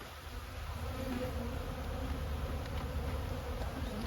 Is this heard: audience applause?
no